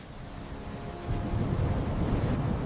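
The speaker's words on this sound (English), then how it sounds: "the wind is blowing so hard, and the trees are shaking violently" Strong wind roars through violently shaking trees, a steady broadband rush that swells into a louder, rougher gust about a second in and keeps blowing hard.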